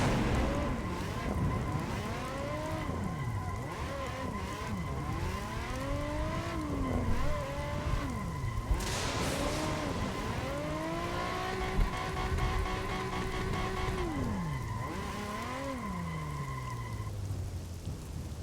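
A Nissan 350Z drifts with its engine whining and revving up and down in long sweeps as it is pushed through repeated slides, accompanied by a steady rushing hiss from the tires skidding across the surface, all loud and close with no talk.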